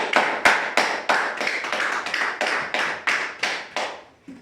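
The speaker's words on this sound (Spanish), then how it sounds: "Den un aplauso a Cristo." Applause for Christ in a church service, heard as a series of about a dozen distinct, evenly spaced sharp claps, close and crisp, with nobody talking.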